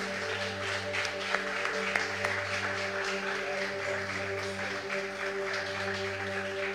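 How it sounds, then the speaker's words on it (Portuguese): Church congregation applauding after a pastor's sermon, a steady wash of clapping filling the room with sustained tonal hum beneath it. "Aplauda ao Senhor, amém."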